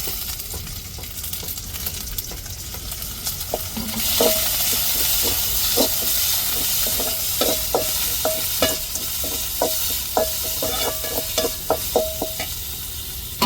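Ginger, garlic and curry leaves sauté in a pan with steady sizzling, joined midway by a run of sharp metallic stirring clicks and scrapes of a spatula against the pan.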